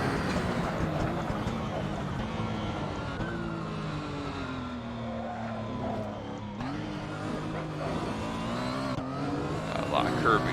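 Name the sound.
Porsche 911 GT1 engine driving in Assetto Corsa video game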